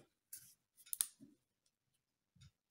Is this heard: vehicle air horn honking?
no